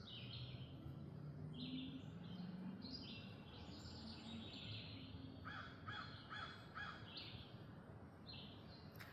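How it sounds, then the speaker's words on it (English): Birds calling outdoors on a Saturday morning, crow-like caws and chirps repeating in short bursts, faint and somewhat distant over a steady background hush, no talk. "I hope you can hear the birds. They are singing up a storm this morning."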